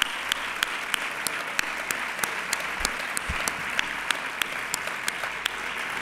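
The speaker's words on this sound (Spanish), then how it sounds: "Fuerte aplauso para todos ellos" An audience at a sports awards gala claps loudly for a dance company, a dense, steady wash of applause with a few sharper individual claps standing out, lasting throughout.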